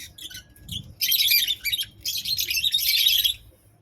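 Lovebirds in a nest box on a Bahrain lovebird farm, one sitting inside with eggs and a newly hatched chick, give bursts of shrill, rapid chirping and squawking, loud and close, in two long runs with brief quieter gaps.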